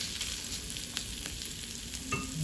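Fried tofu sautéing in a pan gives a steady, close sizzle with light stirring scrapes, continuous and fairly quiet throughout.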